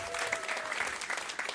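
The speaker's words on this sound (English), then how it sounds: "Please give her a round of applause." An audience at a conference applauds to welcome a speaker, steady, fairly quiet clapping from a crowd with occasional louder hand claps.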